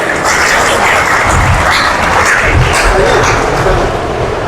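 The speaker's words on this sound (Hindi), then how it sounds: "तो कृपया जोरदार तालियों से उनका स्वागत किया जाए" Sustained applause from a seminar audience welcoming a guest to a stress-free living talk at a training centre, a dense, steady wash of clapping at even loudness throughout with no speech over it.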